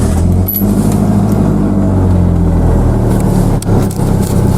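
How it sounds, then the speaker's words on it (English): The engine of a new truck runs steadily from inside the cab, a loud, continuous low rumble with a slight dip near the end and no speech. "you'll hear a lot of the engine sounds coming from the middle of the truck"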